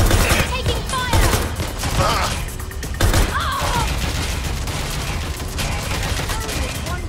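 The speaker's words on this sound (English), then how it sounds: "Shots fired." Video game gunfire in Watch Dogs: Legion: a steady clatter of repeated shots and mechanical clicks over a dense, busy background, fairly loud throughout.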